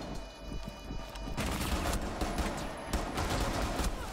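Rapid bursts of gunfire in Counter-Strike, dense overlapping shots forming a continuous volley that grows louder partway through, with no talking.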